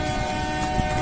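The Poorva Express passenger train on the Howrah–Patna–New Delhi route, in the Danapur division of the East Central Railway, gives a steady, loud rumble with a sustained tonal hum and a brief knock near the end.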